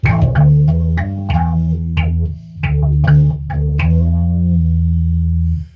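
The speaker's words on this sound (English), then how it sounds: "It's this weird squishy sound when you really shorten the decay up." Bass notes run through a squishy, quacking Electro-Harmonix Bassballs envelope filter pedal, modded, with decay set short; each attack swells and cuts off fast in a loud, steady riff with short, clipped decays.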